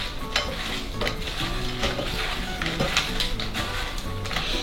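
Potatoes seasoned with spices and salt are stirred in a sizzling pan, with soft, steady frying and a few utensil scrapes and taps, heard close with no talk.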